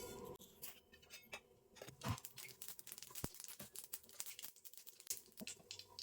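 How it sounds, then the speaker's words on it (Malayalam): Mustard seeds pop and crackle in hot oil in a pan, a dense, continuous spatter of sharp little bursts at close range, with no voices. "കടുക് പൊട്ടിക്കഴിഞ്ഞു."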